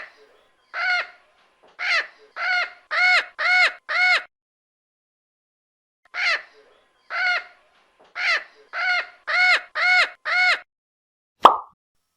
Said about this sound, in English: parrot